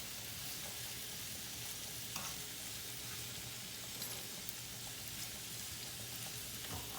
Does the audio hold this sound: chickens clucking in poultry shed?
no